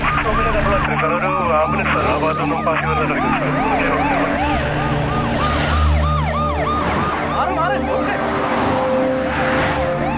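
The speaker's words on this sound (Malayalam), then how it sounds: "ചേട്ടാ, ആംബുലൻസ് ഉണ്ട്, നമുക്ക് അതിന്റെ ബാക്കിൽ വിടാം." An ambulance siren wails on a busy road during a Malayalam film chase, with rising and falling tones under constant traffic and engine noise. Loud and close throughout, with brief shouted voices mixed in.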